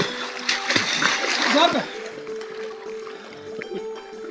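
Water splashing in a swimming spot as a beginner learns to swim, irregular slaps and splatters near the microphone, with someone talking over them.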